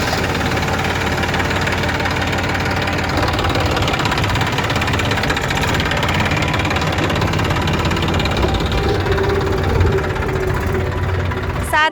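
A tractor engine runs loudly and steadily close by, a dense, continuous mechanical rumble with a knocking texture that stays even throughout.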